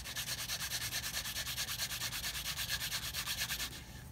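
Leather guitar strap edge being water burnished by hand, a steady rapid rubbing stroke repeating evenly and close up for several seconds, with no talk.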